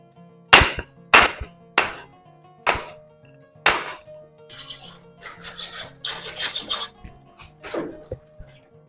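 Chisel knocking defects off the bottom of a wall before painting: about five sharp, loud strikes at a steady pace, then quieter scraping and rasping as loosened material is worked away.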